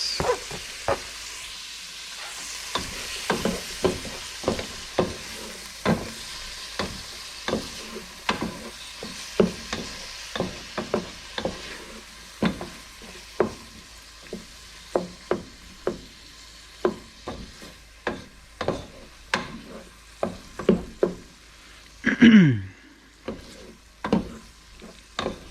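Tomatoes stir-fry with pork and binagoong in a hot pan: a steady sizzle under repeated, rhythmic scraping strokes of a utensil, with one louder clatter near the end.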